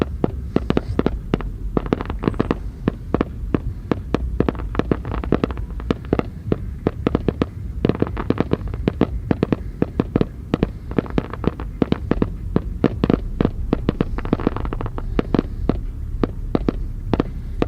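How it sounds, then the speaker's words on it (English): Fireworks explode at the Burning Man festival, a dense, continuous barrage of loud booms and crackling bursts following one another rapidly for the whole stretch, with no voices over them. "These guys got no end to fireworks here."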